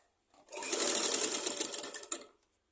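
A sewing machine stitches a back-button model blouse in one continuous run of about two seconds, fairly close and steady, with a brief burst near the end before it stops, heard alone.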